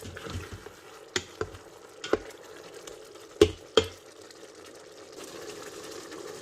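Tomatoes with dry spices cooking down in a pot, a low steady sizzle with a few sharp scrapes and clinks of stirring against the pot, close by and fairly quiet with no talking.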